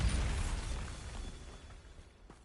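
A Bombarda blasting spell goes off in Hogwarts Legacy: one sharp explosive burst at the start, then a fading rumble with faint mechanical debris sounds trailing away.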